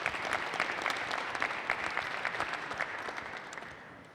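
Attendees at a boxing press conference clap in a fairly quiet, scattered round of applause that thins out and fades near the end.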